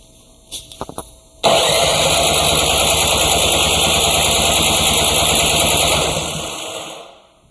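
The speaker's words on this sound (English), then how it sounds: "So the electric starter works, but the engine's not running." An engine's electric starter whirs steadily for several seconds after a few short clicks, a loud continuous cranking drone that fades out at the end; the starter works but the engine does not start.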